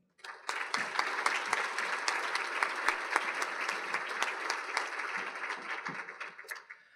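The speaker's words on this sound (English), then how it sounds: "give them a round of applause" A community gathering's audience breaks into steady applause, many hands clapping in a continuous mid-level wash that starts abruptly, holds evenly with no voices, and carries on to the end.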